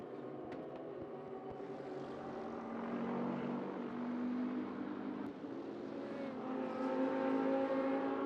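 A race car circling a track, its engine drone rising and sustained with harmonic tones shifting in pitch as it runs, heard at steady moderate loudness through the stretch with no talk.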